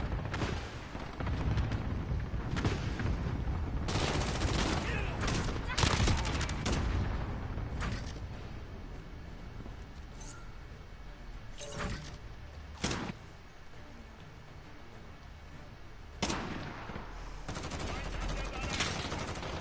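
Weapon gunfire in Call of Duty Modern Warfare on PS4: bursts of shots and sharp cracks scattered across a steady battle din, some near and loud, others quicker and fainter, with no talking.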